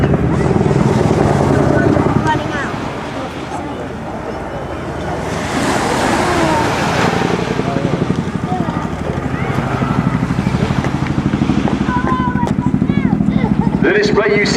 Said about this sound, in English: The display you see today really shows how maneuverable this extremely large helicopter is.